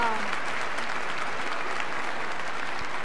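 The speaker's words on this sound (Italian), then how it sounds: "Un applauso!" An audience at an outdoor children's festival in 2019 applauds after a singing performance, a dense, steady round of clapping heard from close by.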